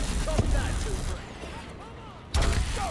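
Gunfire aimed at the player during an intense Call of Duty: Advanced Warfare mission, a dense rattle of shots mixed with battle noise and overlapping voices, dipping in the middle before a loud burst returns.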